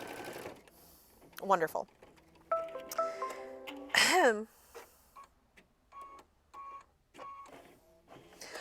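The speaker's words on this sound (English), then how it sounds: "Lower your foot and hit start, and we are on to machine stitch step 23." Embroidery machine stitching fabric for a sampler quilt block, producing tonal motor whirs and rapid mechanical stitching bursts that rise and fall, with a voice briefly speaking over it.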